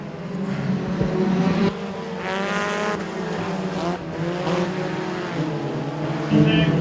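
Compact race cars race in a pack at Moler Raceway, their engines droning loudly and continuously with rising and falling revs as they pass, while a commentator talks over the noise.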